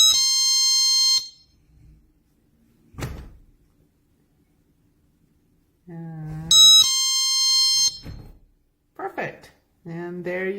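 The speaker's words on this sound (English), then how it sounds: "Now, if there's any separation, it's gonna go off." A GE personal security window and door alarm sounds in two bursts of shrill, piercing electronic tones, with quiet gaps and a person talking between and after them.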